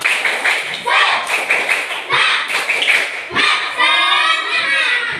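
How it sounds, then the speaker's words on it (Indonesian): A class of children performing a rhythmic 'tepuk semangat' clapping routine, patterned bursts of claps in time with children's voices chanting along, close and lively, ending in a sustained group shout. "Tepuk semangat."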